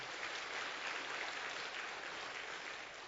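Steady, even applause from a church congregation, a soft wash of clapping that holds at a constant level throughout, with no voices.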